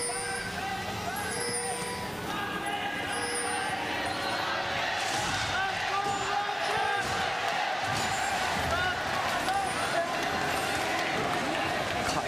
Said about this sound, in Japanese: 会場の声援が凄まじいですね